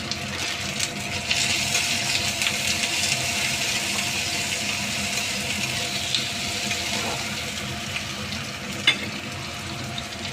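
Chopped tomato hits a hot pan and fries, giving a steady, even sizzle with faint stirring scrapes and an occasional small tap, close and continuous with no talking.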